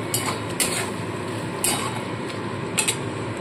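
Fried prawns tossed with masala in a pan, a dense, steady sizzle broken by several sharp metallic scrapes and clinks of a spatula against the pan.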